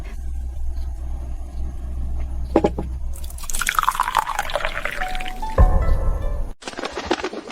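Water is poured from a container into a vessel, a rising gurgling fill that swells over a few seconds and ends abruptly, set against a low steady hum and scattered drips, with no talk.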